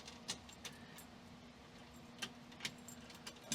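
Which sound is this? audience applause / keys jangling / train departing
keys jangling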